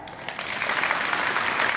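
An audience claps in a brief, dense burst that swells quickly and holds steady for under two seconds, filling the room with close, even applause.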